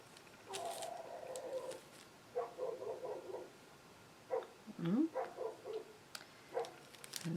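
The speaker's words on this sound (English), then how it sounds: "The neighbor's dog is going crazy outside." A neighbor's dog barking outside, bursts of repeated barks and yips in several clusters, muffled and moderately distant as if through a wall or window, with no talking.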